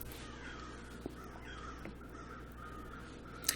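Crows caw faintly at a distance, a few scattered calls over a quiet outdoor hum, with one sharp knock near the end.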